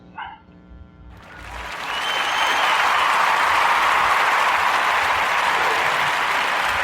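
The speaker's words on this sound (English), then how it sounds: "join me in a Warm Narrative podcast round of applause for Angela Lyons and Anna and Pookie's Party" Round of applause that follows a faint dog bark at the start, building into a steady, loud wash of clapping that holds to the end.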